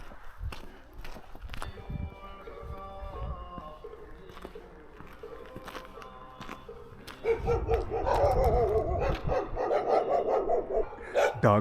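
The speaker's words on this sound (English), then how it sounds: "Dogs are not happy to see me." Dogs barking near a small hillside temple by the North Korean border, scattered sharp barks early, then a louder, busier burst of several dogs barking together close by toward the end, with footsteps.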